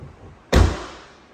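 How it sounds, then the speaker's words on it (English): A Chrysler 300 Limited car door swings shut with a single solid, deep thud up close, ringing out briefly before fading, with no voices. "Nice solid sounding thud on the door."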